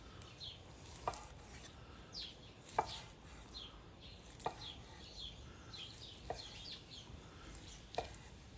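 Ribeye steak of Alberta beef being sliced with a Dalstrong knife on a board, faint quiet cuts with a few sharp knife taps against the wood at irregular intervals.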